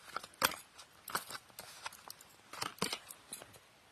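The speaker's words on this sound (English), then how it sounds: "But first, I got to shuffle the deck." A deck of playing cards is riffled and tapped in a few quick bursts of crisp flutter and snap, close and fairly quiet, with short pauses between them.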